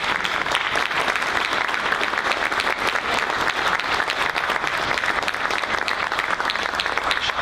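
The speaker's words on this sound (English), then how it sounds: "And can we clap? Rhonda's amazing." Loud, dense applause from a crowd at a Tea Party group meeting, many hands clapping in a steady, unbroken roar that stays even from start to finish.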